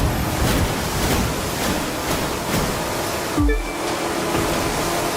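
Wash of waves and rushing wind as a boat races across open water in The Crew 2 video game, a steady loud surf-like roar with a brief splashing thump midway through.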